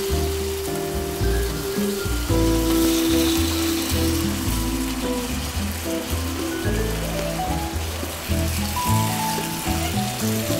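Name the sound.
meat frying and sizzling in a pan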